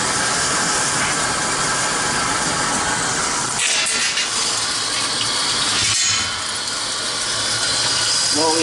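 Water gushing loudly and steadily into a washing machine drum being tested at an outdoor laundromat, a constant rushing fill with a brief dip and shift partway through.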